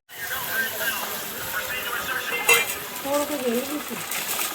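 Masala for Maggi noodles cooks on a chulha, sizzling steadily in the pan with a few stirring and utensil clinks, while people talk over it throughout.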